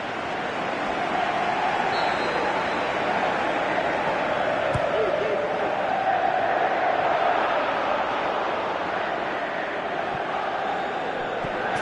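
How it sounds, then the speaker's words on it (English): A large stadium crowd roars in a PES 18 football match, a steady loud wash of cheering and chanting with a rising surge, under commentary. "crowd calling for him to shoot"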